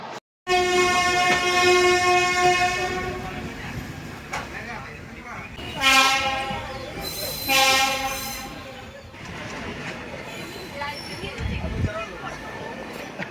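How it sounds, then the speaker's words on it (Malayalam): Passenger train standing at platform 6 of a railway station, with loud horn-like tonal blasts and rumbling rail noise, a sudden start, then bursts of horn and station clatter continuing to the end under a busy platform din. "പാസഞ്ചർ ട്രെയിനാണ്. 25 രൂപയുള്ളൂ ticket charge. Platform number 6 train നിർത്തിയിട്ടിരിക്കുന്നത്."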